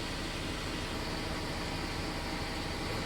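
A steady, loud hiss and drone from an air compressor running continuously close by while a tire is mounted by hand, with no pauses or changes.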